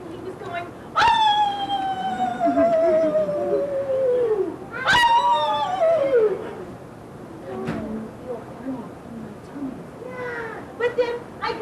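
A voice imitates a wolf's happy howl with two long, loud, falling howls in a row, then shorter yelping whoops, mixed with storytelling speech.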